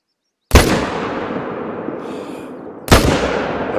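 Two loud, sharp rifle shots about two and a half seconds apart, each with a long echoing tail, fired from a scoped hunting rifle while stalking ibex in a hunting video game.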